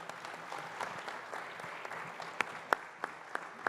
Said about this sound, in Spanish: Un aplauso para Felipe, por favor.